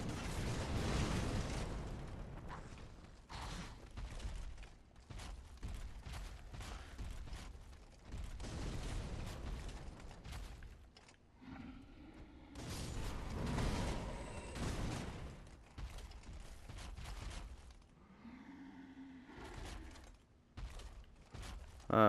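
Fire bombs explode in Dark Souls 3 in repeated loud, booming bursts. Some come in quick clusters, others are separated by short quiet gaps.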